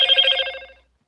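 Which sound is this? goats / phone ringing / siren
phone ringing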